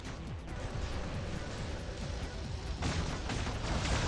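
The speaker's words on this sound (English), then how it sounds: "this guy's shooting me" Robot weapons firing at the player in War Robots, a continuous rumbling barrage of heavy shots and blasts, growing louder toward the end.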